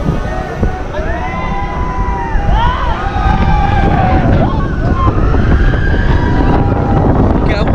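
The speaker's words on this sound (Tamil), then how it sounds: "காத்து ஆப்போசிட்ல ஃபோர்ஸ் அடிச்சிட்டு இருக்குங்க" Strong wind rushes steadily against riders climbing high and moving at speed on a ride at a Bangalore water theme park, with excited voices and shouts over the constant roar.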